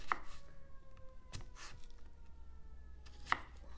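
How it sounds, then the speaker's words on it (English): A knife chops medium potatoes very thinly for vegetable pakoras, striking a cutting board three times in a slow, uneven rhythm, close and fairly quiet, with no speech. "five potatoes this size, medium, and I'm cutting down like a very, very thinly chop"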